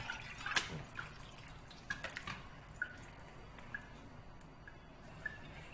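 Quiet, scattered water drips fall one by one at an uneven pace from drained wheat noodles, small and close, over a soft background hum.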